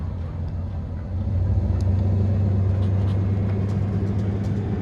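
A custom-built electric bike switching on: a steady low motor hum that rises and then holds constant, close and alone.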